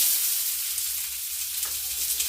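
Onion for biryani fries in a pan with cinnamon, cloves, cardamom and bay leaf, giving a steady hissing sizzle, close and bright, with a faint scrape of stirring and no voices.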